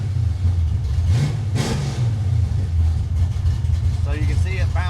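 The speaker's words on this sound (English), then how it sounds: "Watch what happens as soon as we touch the throttle." A car engine revs up briefly as the throttle is touched, a short mid-pitched rise and fall over a steady idle rumble, with someone talking over it.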